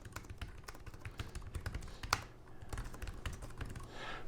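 Rapid, irregular clicking of keys on a Brydge wireless keyboard for a 10.2-inch 7th-generation iPad, typed close up at a steady pace with brief pauses and one sharper tap midway.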